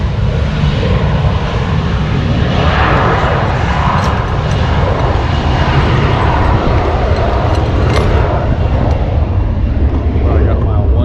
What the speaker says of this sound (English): Enjoy a JetBlue, no, not a JetBlue, a Delta takeoff.